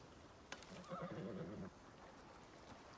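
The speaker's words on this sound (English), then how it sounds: "I hear a horse." In the Icarus survival game, a horse gives a distant, fairly quiet whinny with a wavering pitch over low background ambience, lasting about a second.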